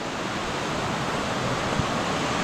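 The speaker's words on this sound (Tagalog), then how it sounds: "waterfalls." Glencar Waterfall in Ireland roars as a constant, dense rush of falling water, steady and enveloping throughout with no voices.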